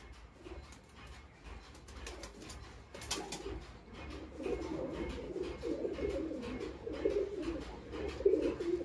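A KTM Teddy pigeon of the Mugli breed coos softly several times in a low, rolling rhythm, growing more frequent toward the end against a quiet background.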